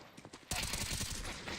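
A quick burst of several pistol shots in a Counter-Strike match, sharp repeated cracks after a brief softer lead-in, heard under a commentator's voice.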